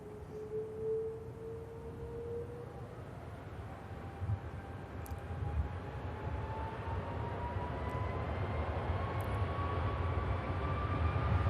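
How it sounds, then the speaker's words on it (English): Tanker aircraft engines at Manchester Airport spooling up, a steady distant jet roar with a slowly rising whine that grows louder and fuller over several seconds. "Tankers spooling up and heading down to 3 left."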